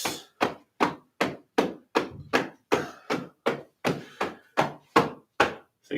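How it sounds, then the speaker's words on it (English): Closed fists knock over the hip crease in a qigong routine, a steady run of around fourteen dull, evenly spaced thumps close by, with no voices. "Up the inside, knock over the hip crease."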